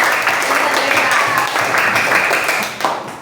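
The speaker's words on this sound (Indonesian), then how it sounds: "kasih tepuk tangan dulu untuk integritas" A classroom of students applauds, brisk close clapping that holds steady for a few seconds before tapering off.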